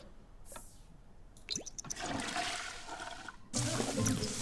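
A shower runs in The Sims 4 with a faint, hissing spray of water that swells and then steadies, ending in a louder gush, mixed with small game clicks and chimes.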